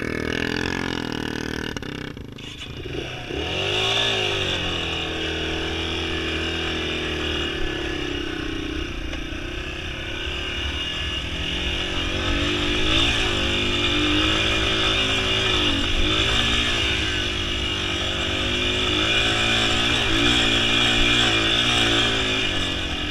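Yamaha TW200 and TW225 trail motorcycles ride through sandy desert terrain at Sand Hollow, Utah, their small single-cylinder engines droning loudly and close for a long stretch, rising and falling in pitch as the riders throttle.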